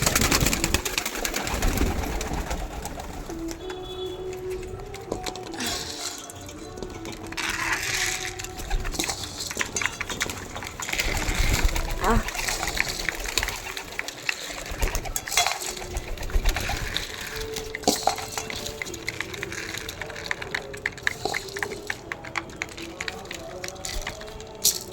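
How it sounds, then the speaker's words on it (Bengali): Pigeons feed on scattered wheat outdoors, with busy pecking and scratching and occasional soft coos through a steady noisy background, and a voice briefly heard at times. "পায়রাগুলো গম খাচ্ছে।"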